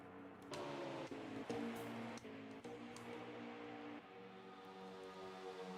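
A race car motor lifts off the throttle at Chicagoland Speedway during the Outlaw Nation 200, a steady, loud droning engine tone with strong harmonics and brief dips, running continuously without talk.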